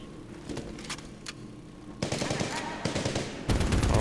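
Heavy machine gun fire in Medal of Honor: Warfighter, with dense rapid bursts that start sparse and then break into loud sustained fusillades, close and intense.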